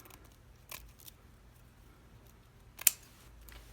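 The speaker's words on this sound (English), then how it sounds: "on this I can use good scissors, and you can do it at an angle" Good scissors cut wired ribbon at an angle while a multi-layer Christmas bow is made, giving a few sharp, quiet snips spaced apart with one crisper cut near the end, otherwise near silence.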